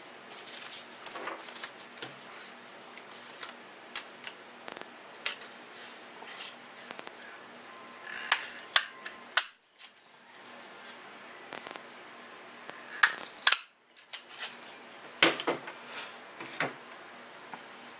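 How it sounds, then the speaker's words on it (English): Scissors cut paper to size for a flower craft: irregular soft snips and paper rustles up close, in short bursts with brief pauses. "I do cut my paper to size so I don't waste."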